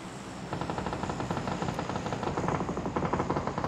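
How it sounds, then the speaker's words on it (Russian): An airplane flies over in the battle-royale game PUBG, a steady, loud, throbbing engine drone with a rapid pulsing beat that holds for several seconds without speech. "Самолет, естественно, вовремя появился."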